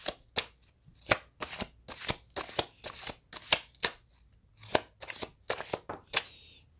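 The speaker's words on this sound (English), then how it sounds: "Let me pull a card." Tarot cards being shuffled and drawn during a psychic reading: a close, steady series of crisp riffling flicks and snaps in quick bursts, with no talking.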